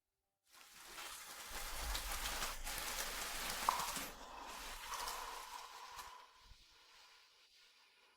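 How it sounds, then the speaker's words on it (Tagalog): Steady rain falls outside, a dense broadband hiss that fades in and holds strong for several seconds before thinning toward the end, with no one talking. "Umuulan sa labas?"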